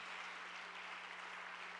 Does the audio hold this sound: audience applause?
yes